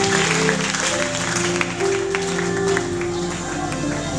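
A church congregation claps and cheers to acclaim the Lord, steady dense applause from a crowd with music playing underneath.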